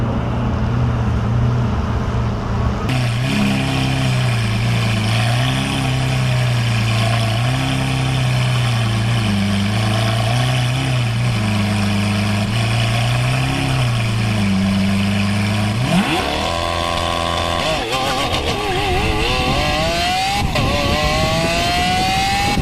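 A Lamborghini engine idles with a deep, loud burble that rises and falls in slow blips, then swells into a sharp rising rev near the end, heard close with no talking.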